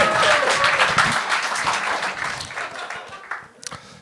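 A comedy-show audience applauds for comedian Guillaume Lampron, a fairly loud wash of clapping that thins out toward the end, leaving a few final scattered claps.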